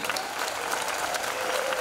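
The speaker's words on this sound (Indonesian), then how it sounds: "Tepuk tangan ini buat orang tua kalian." A large crowd claps loudly and steadily at an Islamic boarding school gathering for National Santri Day, dense, continuous applause throughout.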